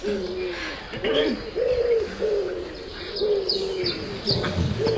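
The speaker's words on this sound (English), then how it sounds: "I have been feeding pigeons, thousands of them for years." Pigeons coo in soft, rolling repeated calls with faint chirps above, a steady gentle flock sound in a period audio drama scene.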